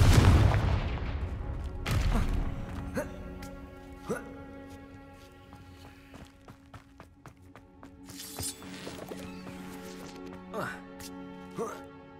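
A Confringo fire spell from the Hogwarts Legacy video game goes off with a loud booming blast at the start, followed by lingering game music and scattered lighter impacts, with a voice speaking over parts.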